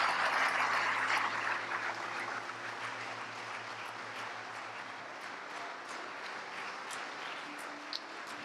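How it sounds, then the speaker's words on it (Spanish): Church congregation applauding together, a dense steady wash of clapping that starts loud and settles into a sustained, slightly softer roll, with no voices standing out. "Dele un aplauso al Señor."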